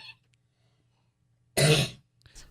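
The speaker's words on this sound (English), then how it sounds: "I'm going to have to cough for just a second" One short, harsh cough and throat clearing from a radio show host, close to the microphone, bursting after a quiet stretch and followed by faint rustling.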